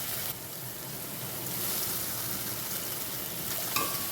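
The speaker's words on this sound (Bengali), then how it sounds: "একটু জল দিয়ে মশলাটাকে সুন্দর করে কষিয়ে নেব।" Black cumin and ground spice paste sizzle steadily in a hot pan after a splash of water, a dense, continuous frying hiss that swells slightly midway, with a faint clink near the end.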